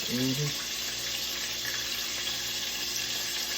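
A steady, close sizzling hiss of chicken frying in hot oil, with a brief voice at the very start.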